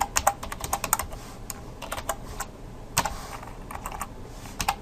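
Someone types code on a computer keyboard, close up, producing rapid irregular clicks with short bursts and brief pauses, with a few sharper key strikes mixed in.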